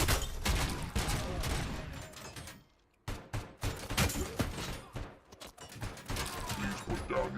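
ED-209 opens fire in a Robocop video game: loud, rapid bursts of automatic gunfire with mechanical clatter, a brief pause, then more staccato volleys up close.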